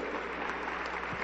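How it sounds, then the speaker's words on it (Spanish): Brief, steady applause fills a Pentecostal church service in Huancayo, a dense wash of clapping from the congregation with no break. "Aplauso para el Señor Jesús."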